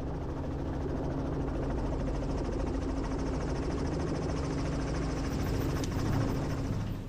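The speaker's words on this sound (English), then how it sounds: "chopper will try and push it towards the road or towards a clearing" A helicopter flies over a wildlife reserve during a rhino relocation, its rotors making a steady, fairly distant droning thrum that holds evenly throughout.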